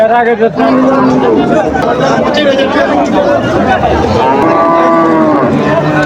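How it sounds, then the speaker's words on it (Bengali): At a busy cattle market in Kalampur, cattle give loud, drawn-out moos, one after another, over constant crowd chatter and nearby talking. "সুন্দর একটি গরু"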